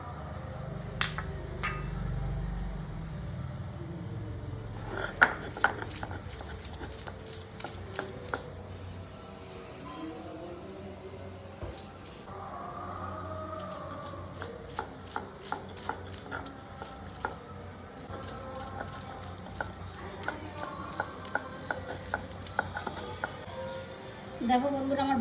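Fried kharkol leaves with black cumin, chilli, garlic and salt being ground by hand, giving repeated close scraping and knocking strokes in an uneven rhythm with brief pauses, loud and near, with no talk.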